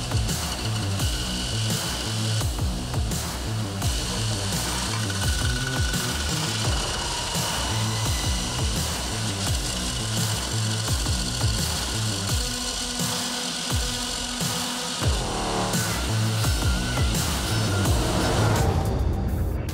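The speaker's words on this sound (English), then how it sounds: "My job is just to blend that weld, brighten up the edge, sharpen it," A power grinder works over a MIG weld on a steel shovel blade, a loud continuous rattling grind with rhythmic pulsing and scraping bursts, steady throughout.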